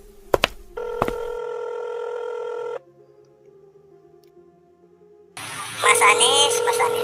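A telephone in an animated school drama gives two sharp clicks, a long steady dial tone, then after a quiet pause a ringing tone returns alongside other noise.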